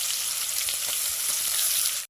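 Cumin seeds and onion sizzle loudly in a generous amount of hot oil for a chicken and jackfruit curry, a dense, continuous hiss up close that cuts off abruptly at the end.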